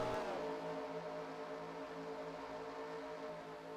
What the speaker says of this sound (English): the cars are rolling out onto the racetrack for their one pace lap